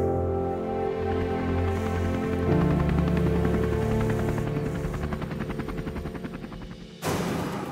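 Firefighting helicopters fly over a wildfire in Muğla, a loud continuous rotor and engine roar with pulsing blade chop that shifts in pitch, swelling again near the end.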